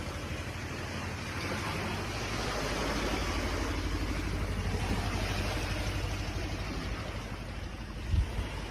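Steady broadband rumble of a small Rohingya wooden boat at sea, with engine drone and wind and water wash blending into a continuous loud roar and one brief knock near the end.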